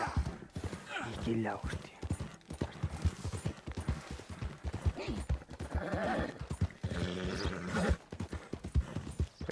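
Horse galloping in Red Dead Redemption 2: rapid, rhythmic hoofbeats pound close and steady, with a neigh or whinny at points and someone talking over them.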